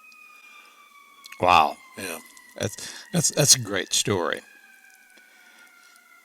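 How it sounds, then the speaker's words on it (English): A siren wails in the background, two long steady tones gliding slowly downward throughout, while people talk briefly over it. "I don't know if you can hear the siren in the background"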